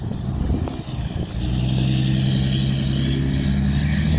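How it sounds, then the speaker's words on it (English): A Cadillac Escalade ESV truck with an Aisin transmission idles with a deep, steady exhaust rumble after a brief engine blip, loud and close with no one talking. "You get to hear that exhaust."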